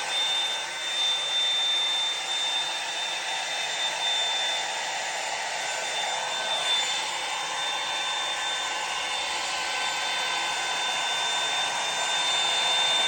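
A Hot Tools blow dry brush runs on dry hair, giving a steady, close, airy whoosh with a faint high whine throughout and no pauses.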